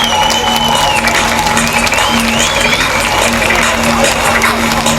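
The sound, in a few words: audience applause for the sidecar category at a grasstrack race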